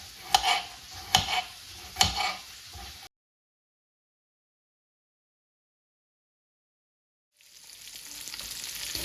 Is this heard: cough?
no